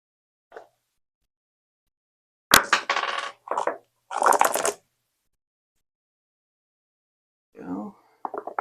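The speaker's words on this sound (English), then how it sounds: "We're going to grab some dice." Dice clatter across a table during a solo tabletop roleplaying session, in a few short bursts of rattling separated by quiet pauses, close and fairly loud.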